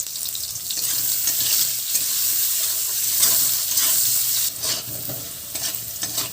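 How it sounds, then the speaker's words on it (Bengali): Potatoes seasoned with salt and a little turmeric fry in hot oil in a village-style kitchen, a constant close sizzle broken by stirring scrapes, with no voices. "এই তেলে আলুগুলো ভেজে নেব"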